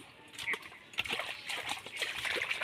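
Water gushes from an irrigation pump into an eggplant field, a steady splashing rush with irregular spatters and trickles, fairly close.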